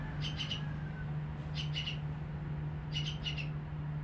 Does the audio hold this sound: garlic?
no